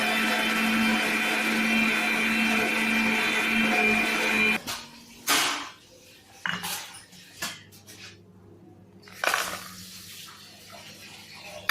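A kitchen mixer grinder whirs loud and steady, grinding soaked cottonseed with coconut and rice, then cuts off abruptly, leaving a few scattered clinks and knocks of the jar and utensils.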